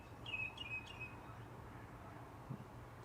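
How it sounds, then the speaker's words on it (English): A few faint bird chirps sound near the start, quick repeated tweets, then mostly quiet outdoor ambience. "Listen to some birds."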